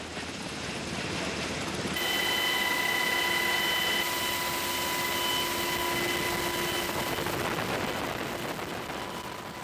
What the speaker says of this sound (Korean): 국군의 날 행사에선 12대 헬리콥터가 100m 간격으로 행사장에 진입하며 이 작전을 선보이게 된다